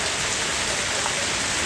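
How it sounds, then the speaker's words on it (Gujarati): The season's first rain pours down in Savarkundla, a thick uninterrupted patter of drops on nearby surfaces, loud and even for the whole short stretch. "અને આ સિઝનનો પહેલો વરસાદ છે અત્યારે"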